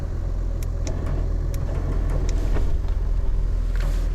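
A car is driven under power with a steady, loud low engine rumble that swells slightly midway, with faint knocks and rattles over the drone and no talk.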